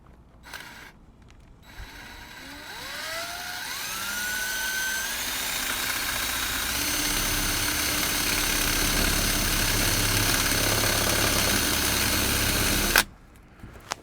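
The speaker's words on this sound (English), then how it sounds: "try to get this pilot hole through there" Power drill boring a pilot hole through the metal wall of a Sprinter van, a steady whirring grind that builds and holds for about ten seconds before stopping abruptly.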